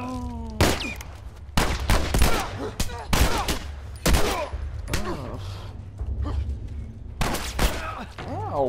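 Gunfire in The Last of Us Remastered, a series of loud, sharp shots with booming tails spaced a second or so apart, over low game rumble and other in-game sounds.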